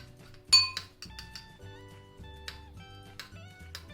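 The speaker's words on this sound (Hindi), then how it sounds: "और अच्छे से मिक्स कर देंगे।" A spoon scrapes and clinks against a bowl while diced ginger and garlic are stirred into melted butter for stuffed garlic bread. Several close, sharp clinks come in irregular bursts over a low steady hum, with no talking.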